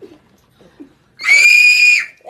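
A child lets out a sustained, high-pitched excited scream lasting under a second, loud and close, after a few short bits of quiet talk, with another voice starting at the end.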